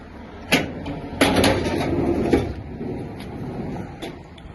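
Slide-out drawer in a van's rear shelving being pulled open, with a series of sharp knocks and rattling scrapes over a rumbling background, close by.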